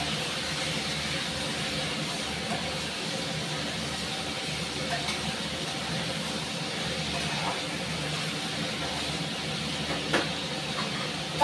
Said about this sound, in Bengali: এদিকে আলু পোস্তের আলুটা ভেজে নেব ভালো করে।